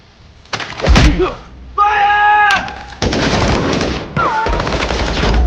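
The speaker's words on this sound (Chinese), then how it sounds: "双方迅速在丛林中展开了激烈对射" Loud, dense bursts of gunfire in rapid exchange in a jungle shootout from an action film, with a shouting voice between volleys and sustained firing at the end.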